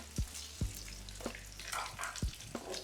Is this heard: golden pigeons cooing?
no